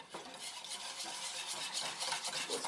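A whisk stirs yogurt into Caesar dressing in a bowl, a quick, steady scraping and swishing rhythm, close and fairly soft, with no talking.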